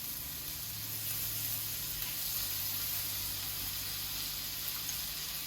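Butter sizzles steadily in a hot pan ahead of searing salmon, a soft continuous hiss and crackle held at an even, moderate level throughout with no voices.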